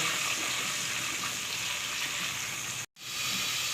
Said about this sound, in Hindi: अब साथ ही इसमें प्याज शामिल करूँगी। प्याज़ों को हमने इतना ब्राउन करना है कि इसका कलर चेंज हो जाए।